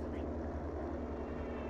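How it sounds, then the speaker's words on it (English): Steady droning propeller-plane engine hum from a Battlefield V match on the Fjell map, a persistent glitch with no aircraft present, holding constant and fairly loud throughout. "I can hear the plane engine."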